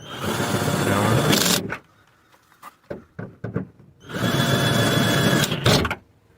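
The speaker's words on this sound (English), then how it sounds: "Then I'm gonna get my little" A small power drill whirs in two sustained bursts, separated by a pause filled with clicks and handling noises, during tailgate trim replacement on a Dodge Nitro.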